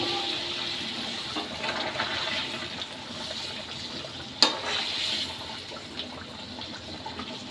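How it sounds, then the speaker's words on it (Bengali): Hot water pours steadily into a pot of chicken curry cooked with chui stems, a continuous close splashing with a single sharp clink midway. "এবার জল দিয়ে দেবো। গরম জল দিলে মাংস খেতে আরো বেশি টেস্ট হয়।"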